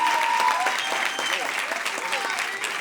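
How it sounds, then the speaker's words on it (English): A graduation crowd breaks into sustained applause for a student's university admission, steady and dense clapping from many hands, with faint voices mixed in. "You want to clap it up?"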